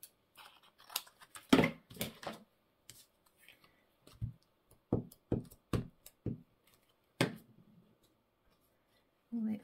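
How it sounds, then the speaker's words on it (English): Scissors snipping scrapbook paper strips while making tags, a series of short crisp cuts in bursts with pauses between, close and fairly quiet, with bits of handling noise. "Scissors."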